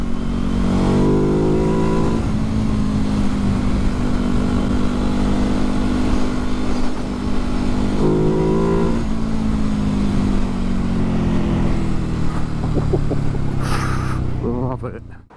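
A Ducati Hypermotard 950 engine roars loudly and continuously while ridden, its pitch climbing and dropping through gear changes, with wind rush throughout.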